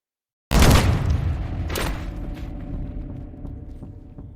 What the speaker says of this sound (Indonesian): tiba-tiba ia terkena tembakan dari Mr. Choi.